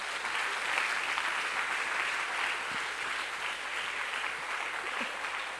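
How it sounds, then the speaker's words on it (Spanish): A church congregation gives a strong round of applause, dense steady clapping sustained throughout at a fairly loud level with no speech over it. "Dele un fuerte aplauso al Señor."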